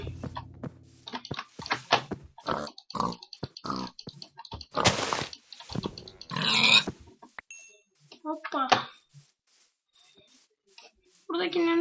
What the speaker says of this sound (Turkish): Domuz var. Domuz var.